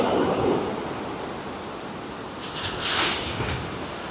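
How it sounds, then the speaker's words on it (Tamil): Sea waves breaking on a shore: a continuous broad rush of surf with wind noise, swelling loud at the start and again near the end as waves crash nearby. "இங்கே பாருங்க கடல் அலை எவ்வளோ அழகாக அடிக்குது"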